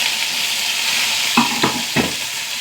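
Small shallots frying in hot coconut oil with mustard seeds, curry leaves and dried chili, a steady sizzling hiss broken by three quick scraping stirs near the end, close with no talking.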